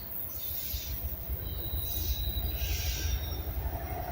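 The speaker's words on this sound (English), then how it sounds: "There's the horn. Ding, ding, ding. Choo-choo." A train rolls past outdoors with metallic wheel squeal and steady rumbling rail noise, loud and continuous; no distinct horn blast stands out.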